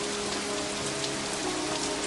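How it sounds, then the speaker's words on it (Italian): Steady rain falls across the whole stretch, a dense even hiss of drops hitting surfaces close by, with no voices over it. "Piove, eh?"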